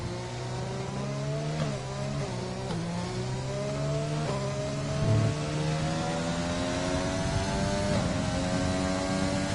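A racing game car lapping Silverstone, its engine droning steadily in high gears with short upshifts, pitch stepping up and dropping at each gear change, loud and continuous with no talk over it.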